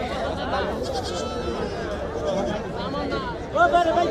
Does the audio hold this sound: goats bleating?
yes